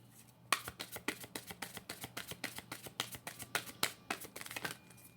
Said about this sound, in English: It's like as I shuffle the deck